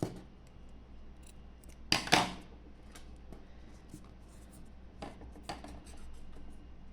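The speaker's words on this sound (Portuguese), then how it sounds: "eu vou cortar aqui a linha" Scissors snip through yarn thread for an amigurumi piece, producing a quick crisp double cut up close, surrounded by faint handling rustles in a quiet room.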